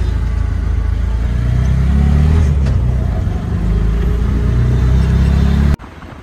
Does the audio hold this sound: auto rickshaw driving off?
yes